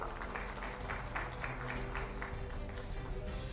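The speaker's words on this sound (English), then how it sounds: "Can we have a big round of applause for him," An audience at a travel industry convention in India breaks into a round of applause, a fairly faint but continuous wash of many hands clapping in the distance, with no voices over it.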